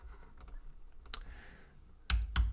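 Several sharp, close keystrokes on a computer keyboard while typing code, coming in a few scattered clicks with a louder pair near the end.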